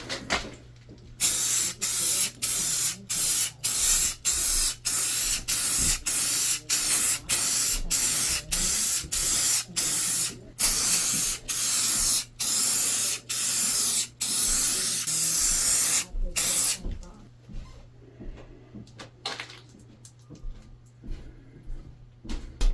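Spray gun laying a tack coat of paint on the functional hood louvers of a Pontiac Fiero GT, in many short close hissing bursts with brief gaps, then a quieter tail of handling sounds.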